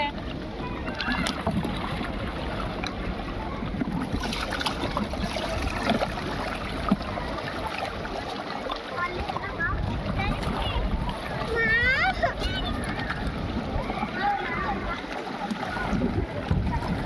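Water sloshes and splashes continuously around a small boat, with voices talking and calling out nearby throughout.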